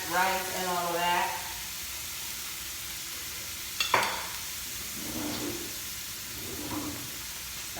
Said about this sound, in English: I like to saute things before I add rice and all of that.